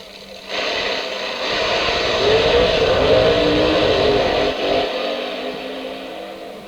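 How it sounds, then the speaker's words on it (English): A 1973 drag racing car with a Crowell-injected 427 Chevy engine running on nitro roars past at full throttle, swelling loud as it nears and fading away, with no talk over it. "T-Rat ran a Crowell-injected 427 Chevy"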